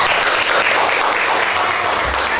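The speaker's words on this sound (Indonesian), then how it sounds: "tepuk tangan ya" Classroom applause during a history lesson, a short, steady patter of many hands clapping at once, loud and close throughout.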